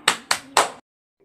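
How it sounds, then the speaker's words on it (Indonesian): Three sharp claps in a quick, even rhythm, then silence, as children in an Indonesian classroom applaud a classmate named Rafa; close and fairly loud. "Kasih tepuk tangan untuk Rafa"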